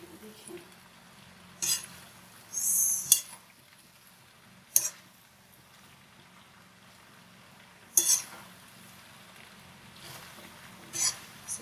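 A spoon scrapes and clinks against a pan while chicken macaroni with onion is stirred and mixed, several short distinct metallic strokes spaced apart over a quiet background.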